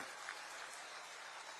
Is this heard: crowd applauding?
yes